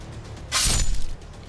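Glass on police vehicles smashes during a riot on a street, one sharp, loud shattering burst lasting about half a second over low background noise.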